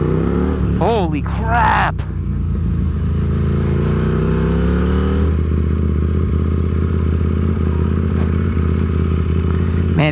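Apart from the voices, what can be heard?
KTM RC8C motorcycle engine revving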